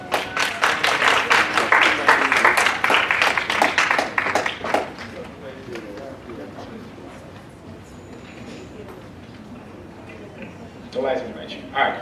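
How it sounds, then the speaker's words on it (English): An audience at a student leadership workshop claps loudly for about five seconds, a dense run of hand claps that then fades into quieter room noise and a few scattered sounds. "So we'll give her a round of applause."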